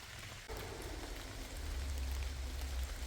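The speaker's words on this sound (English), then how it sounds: "Pouring rain for several hours." Pouring rain falls steadily on the Appalachian Trail, a dense continuous hiss of drops hitting nearby surfaces that grows a little heavier partway through, with no voices.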